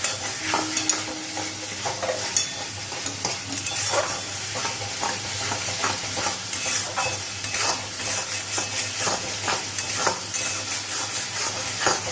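Spice paste (masala) for a pangas fish curry is stirred in hot oil in a pan; a continuous close sizzle carries frequent metallic scrapes and clinks from a spatula, with a low steady hum underneath and no voices.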